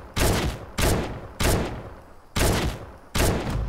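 Gunfire from a gun in Fortnite: five loud, separate shots in an uneven rhythm, each a sharp crack with a short decaying tail, close and alone.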